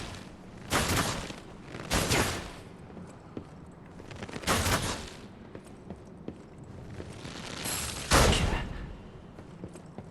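Aimed gunshots in Lies of P, four separate sharp blasts spaced a few seconds apart, each with a brief ringing tail, over a low, quiet game ambience.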